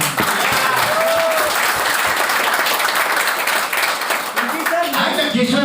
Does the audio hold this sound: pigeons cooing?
no